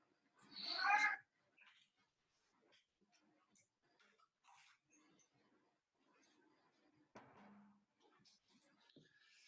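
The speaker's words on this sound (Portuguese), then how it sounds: "Eu vou ter que eliminar essa gata daqui." A cat gives one loud meow near the start in an indoor room where an online dental postgraduate class is held, followed by faint scattered rustles and small sounds, with a brief clunk near the end.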